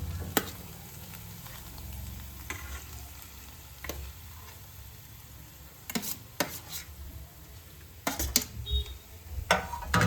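Potato paste stirred into a hot pan of tempering with curry leaves for vada pav, giving a steady low sizzle with occasional sharp scrapes and clicks of the spoon against the pan, louder toward the end.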